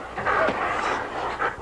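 Sled dogs pant hard after pulling a sled on a finished trip, a fast, breathy rhythm up close that runs steadily through the short moment with no talk over it.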